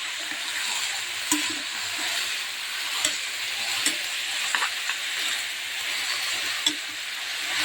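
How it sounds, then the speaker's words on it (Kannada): Horse gram fries in a pan with a steady, close sizzle, broken by occasional sharp clicks and pops from stirring. "ಸ್ವಲ್ಪ ಫ್ರೈ ಮಾಡ್ಕೊಳ್ಳಿ."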